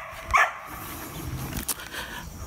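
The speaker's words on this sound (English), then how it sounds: "Neighbor's dogs are up." A neighbor's dogs bark in a backyard. One bark sounds clearly at a distance early on, followed by fainter, muffled yelps over a low outdoor hum.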